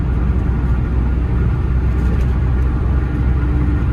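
Alto K10 car on a test drive after an engine overhaul, a steady, loud broadband road and engine rumble heard from inside or close by, continuous with no talk.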